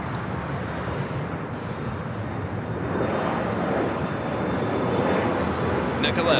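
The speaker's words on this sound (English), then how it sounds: "This is Japan Airlines Flight 60 coming in from Osaka" A Japan Airlines Boeing 787-9 Dreamliner arriving from Osaka at LAX gives a steady broadband jet roar that slowly swells louder as it nears, with a voice talking over it.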